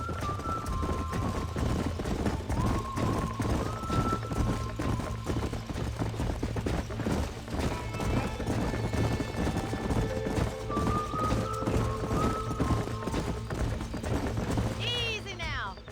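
Horse hooves clip-clop in the video game Red Dead Redemption, steady rhythmic hoofbeats throughout alongside music, with a brief neigh near the end.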